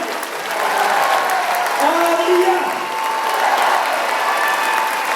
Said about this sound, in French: merci de vous lever afin de faire un tonnerre d'applaudissements